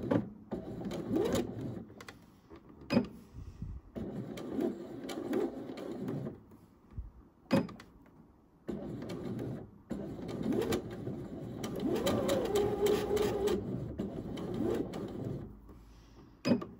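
A sewing machine runs in several bursts while a tank top seam is stitched, its rapid needle chatter alternating with short pauses and sharp clicks of handling, fairly close and steady.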